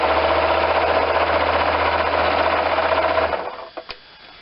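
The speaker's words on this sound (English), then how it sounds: "As you're serging these, the idea is to barely trim off the edge" A serger sewing machine hums in a fast, steady, loud whir as it finishes fabric edges, then stops abruptly, followed by a couple of small clicks.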